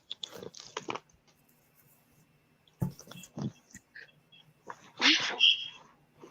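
A single sneeze during an indoor chat, short and sharp, among scattered small clicks and rustles; a voice follows quietly.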